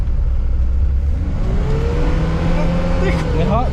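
A car engine revving in second gear, loud and close with a rising engine whine toward the end, while people talk over it inside the car.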